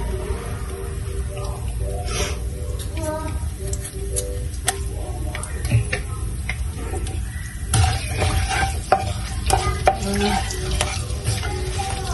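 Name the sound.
chopped green chillies frying in a pan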